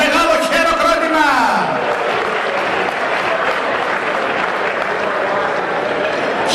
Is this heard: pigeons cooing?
no